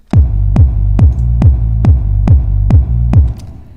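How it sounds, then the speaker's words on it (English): Eight deep, punchy kick drum hits repeat at a steady tempo, each followed by a swelling, pumping reverb tail that ducks under the next hit. "now I'm gonna sidechain the kick into the reverb"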